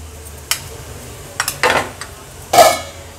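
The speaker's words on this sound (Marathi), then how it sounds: "आता हे मसाले तेलावर छान परतून घेऊया। गॅसची फ्लेम मीडियम वरच ठेवली आहे मी।" Whole spices sautéing in oil in a pan over a medium gas flame, with a few brief bursts of sizzling and stirring scrapes spread across a quiet background.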